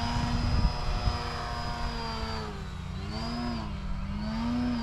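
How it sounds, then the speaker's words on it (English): An E-flite Turbo Timber Evolution RC plane's propeller drones steadily in flight, a buzzing whine that shifts in pitch as the aircraft maneuvers, with a slightly uneven, wobbling tone and no talk. "The prop sounds unbalanced, but trust me, I did balance it last night."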